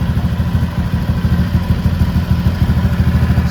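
A Honda Vario LED Old scooter engine running nearby at a steady idle, with a loud, even low putter and a faint mechanical clatter, and no speech.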